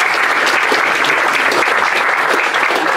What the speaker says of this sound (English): Can we have a round of applause for Marco?